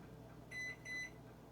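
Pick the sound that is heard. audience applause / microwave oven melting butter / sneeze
microwave oven melting butter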